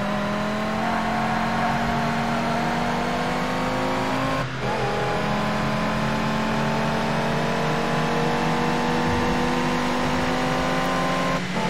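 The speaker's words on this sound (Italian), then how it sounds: "E c'è di nuovo il motore rotto." A race car with a broken engine in the video game TOCA Race Driver 3 drones with a steady, rising whine, its pitch climbing smoothly with one brief dip, loud and continuous.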